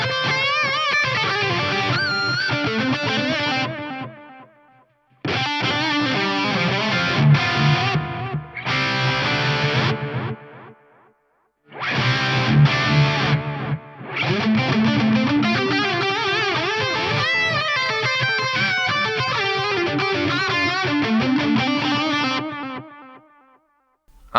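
Guitar played through a Crazy Tube Circuits TI:ME digital delay pedal with modulation added, giving loud, sustained chords and notes with warbling, tape-like repeats that trail off in brief gaps between phrases.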